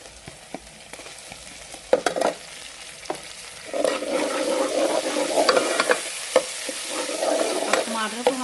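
Tomato dropped into sizzling garlic-ginger paste in a pan, a few sharp clatters and stirs followed by a swelling, steady sizzle, close and moderately loud with no speech.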